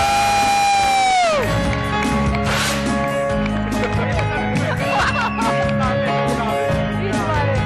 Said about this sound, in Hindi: तो जोरदार तालियों में वेलकम करेंगे वकार को।